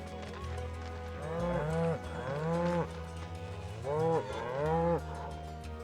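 Cattle in Final Fantasy VII Rebirth low repeatedly in the game, with several long, drawn-out moos rising and falling close by over a steady ambient backdrop.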